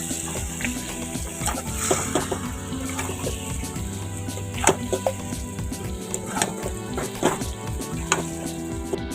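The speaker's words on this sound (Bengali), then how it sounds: "এবারে মাটনটাকে দিয়ে দিলাম ভালো করে একটু কষাবো" Mutton is sautéed in a pan, a soft continuous sizzle under repeated scraping and knocking of a spatula, close by, with a steady low hum in the background and no talking.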